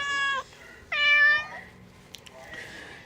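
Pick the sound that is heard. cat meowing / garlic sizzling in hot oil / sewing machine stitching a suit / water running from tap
cat meowing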